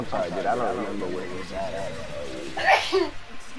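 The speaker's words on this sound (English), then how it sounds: "Bless you." A single sharp sneeze bursts out near the mic during a casual PS4 live gaming broadcast, following a stretch of someone talking and followed by a brief vocal sound.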